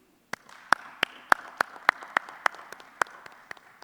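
Audience at a world peace forum in a Jakarta hotel ballroom clapping in a series of about a dozen sharp, distinct claps, fairly close and loud, spread over a few seconds with a soft crowd murmur beneath.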